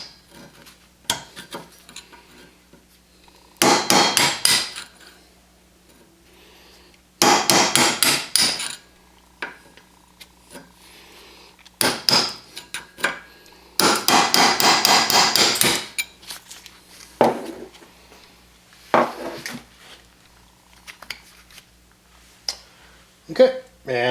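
Sharp hammer blows knock old bushings out of the rear knuckle of a 2015 Wildcat Sport, coming in several loud clustered bursts of rapid metallic strikes with quiet pauses between them.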